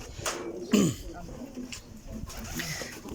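Waskh racing pigeons coo in a short, low burst amid a loft, with people talking nearby and faint rustling throughout.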